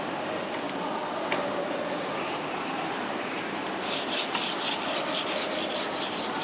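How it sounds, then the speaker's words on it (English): Wet-and-dry sandpaper wrapped around a block, rubbing an acrylic surface: a steady, soft scratchy rasp of back-and-forth strokes that grows brighter and more rhythmic toward the end, with no voices. "He wet it at the sink and wrap around the foul and start the sanding"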